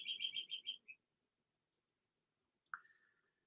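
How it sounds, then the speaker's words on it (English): A bird sings outside a window, a quick run of five or six bright chirps followed by a short trill, then silence and one faint sharp call later, heard softly from a distance. "I do hear that bird outside my window."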